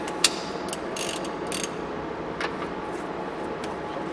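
Ratchet wrench with a 19mm socket working a nut on a Nissan Note, giving a few quick metallic clicks and clacks over a steady background hum.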